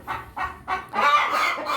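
Farm chickens clucking and squawking nearby after one hen has just laid an egg, in a quick, noisy series of calls, rising into a louder overlapping burst.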